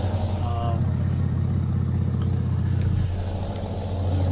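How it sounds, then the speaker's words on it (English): A modded truck engine in Euro Truck Simulator 2 rumbles steadily, a low throbbing idle that rises into a pulsing drone then eases off, loud and close. "It really enhances the sound of the truck."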